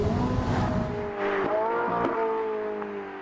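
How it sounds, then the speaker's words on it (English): A Ferrari 458 Italia V8 engine revs loudly and close, its pitch rising and falling in sharp sweeps, with a harsh rasping note and no talk. "It's also tuned to produce a much sharper and better engine noise."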